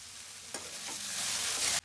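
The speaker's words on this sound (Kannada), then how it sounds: "ಇಷ್ಟು ಕಾಳುಗಳನ್ನ ಮಾತ್ರ ಒಗ್ಗರಣೆ ಮಾಡ್ತಾ ಉಂಟು ನೋಡಿ." Sprouted legumes tempered in hot oil for a drumstick-leaf bassaru palya burst into a loud, bright sizzle that swells and holds for about a second before cutting off abruptly, with a spoon scraping through it.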